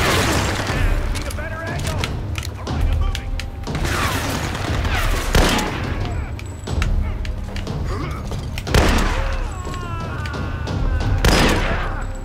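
Gunshots in the Tomb Raider action game: repeated sharp cracks and thuds in irregular bursts, with booming impacts and mechanical clatter, while someone talks over the fighting.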